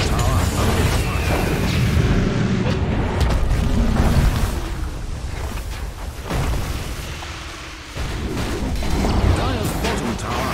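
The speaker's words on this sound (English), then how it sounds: "Dire's bottom tower under fire." Dota 2 match audio with booming, explosive combat sounds from a tower under attack, rumbling continuously and loudly, easing after a few seconds and then building again.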